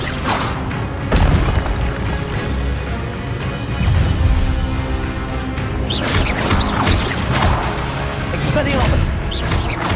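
Spell effects from Hogwarts Legacy, the Expelliarmus and Incendio casts, land as repeated booming crashes and whooshing bursts. They keep up a dense, loud barrage the whole way through, under a voice shouting incantations.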